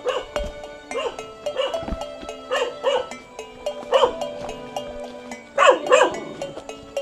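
A dog barks repeatedly in short bursts, some yelping and higher pitched, moderately close in a quiet outdoor setting, with a steady tonal hum beneath.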